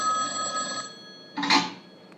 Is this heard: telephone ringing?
yes